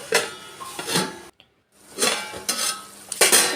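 Chicken pieces and leg pieces being mixed in a pan for chicken fry, with close scraping and clattering of a utensil against the pan in several bursts, broken by a brief silent gap.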